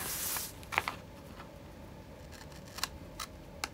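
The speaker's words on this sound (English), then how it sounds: "I'm gonna trim that off." Scissors trim paper in a junk journal, giving several quiet, sharp snips spread across a few seconds in a calm room.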